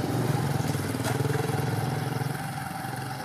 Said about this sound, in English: Watch the motorcycle disappear.